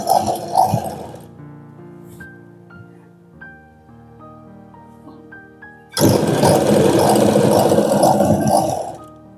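Sewing machine stitching a lined blouse: a loud, steady whirring run starts abruptly and continues to the end. Earlier there are brief machine bursts and soft tonal notes at lower volume.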